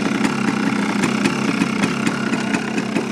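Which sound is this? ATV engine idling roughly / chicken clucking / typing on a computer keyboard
ATV engine idling roughly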